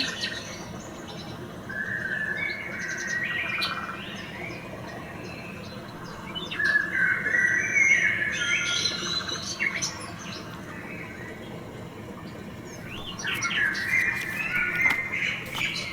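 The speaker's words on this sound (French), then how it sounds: "Le jeune moineau orphelin crie famine." A young orphaned sparrow chirps in bursts of thin, high cheeps that come in three clusters, moderately close, over a steady low background hum.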